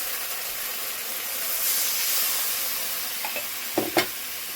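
Spices sizzle and hiss steadily in a hot pan while a Bengali dish is cooked, with a few sharp stirring clatters near the end; no one speaks.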